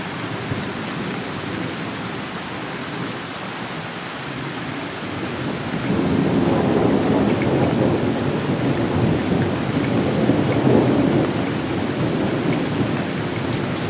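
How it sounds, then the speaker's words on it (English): Steady heavy rain that swells louder partway through, with low rumbles of thunder rolling beneath the broadband hiss, recorded outdoors around a mature tree with no voices present. "Rain's picking up."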